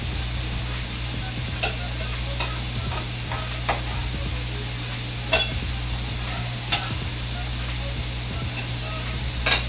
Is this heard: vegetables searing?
yes